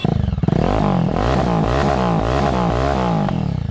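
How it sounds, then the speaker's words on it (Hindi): A Jawa 42 2.0 motorcycle's exhaust is loud and close, with a throbbing idle that rises into a series of revs and falls back between them. "तो ये थी इसकी एग्जॉस्ट की आवाज़"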